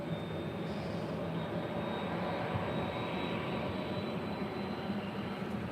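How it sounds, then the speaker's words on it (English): An airliner engine roars steadily at an airport runway, 24 left at LAX, where jets take off and land; a continuous, moderately distant jet rumble with a faint high whine throughout. "That was followed by United Airlines flight 2166 coming in from SFO, San Francisco, on that A320, and then that Asiana A350."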